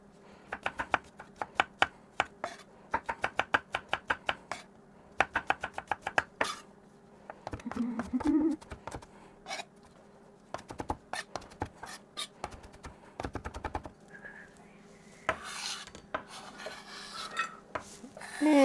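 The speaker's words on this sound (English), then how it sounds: "So I'm just gonna chop this garlic up." A knife chops garlic on a cutting board in rapid bursts of close, crisp taps, separated by short pauses and some scraping and rubbing as the pieces are gathered.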